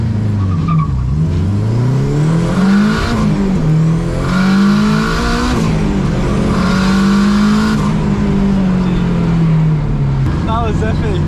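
A sleeper Honda Civic with a boosted D-series engine races hard, loud and close. The engine note climbs steadily through the revs, drops at each gear change, then climbs again for over ten seconds.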